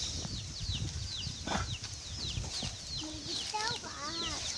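A hen clucks softly among ducklings she is mothering, with their high, rapid peeping chirps scattered over low farmyard rumble and faint voices nearby.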